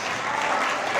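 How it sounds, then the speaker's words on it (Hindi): A comedy show audience claps and cheers in a dense, steady burst of applause for about a second. "तालियां ठोक लो थोड़ी सी।"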